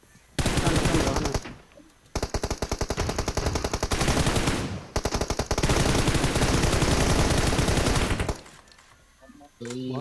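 Rapid gunfire bursts from PUBG Mobile gameplay, loud and dense, with a brief pause near two seconds, another near five, then a longer stretch that ends around eight seconds; a shotgun blast may sit among the shots.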